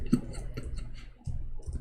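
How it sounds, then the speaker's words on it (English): A handful of soft, irregular clicks tap out in quick succession, close and quiet, like fingers pressing keys on a keyboard. "I'm typing in English again."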